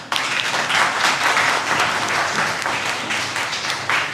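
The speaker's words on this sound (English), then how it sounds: "So I want you all to give a round of applause for all yourself." An audience at a Hamdard Naunehal Assembly evening event claps in a steady, dense burst of applause for about four seconds, close and even, with no speech over it.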